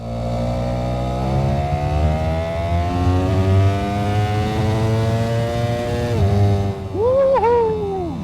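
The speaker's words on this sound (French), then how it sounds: "Ce moteur ne connaît pas le terme inertie." A 2025 Ducati Panigale V4S motorcycle accelerates hard with a rising, loud, close engine note that climbs steadily, then a quick drop, before sharp throttle blips at the end.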